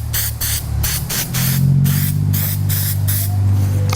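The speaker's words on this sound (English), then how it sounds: "what I do is I use some spray adhesive" Spray adhesive hissing from an aerosol can onto a Fel-Pro oil pan gasket, a series of short close bursts followed by a longer steady spray over a low background hum.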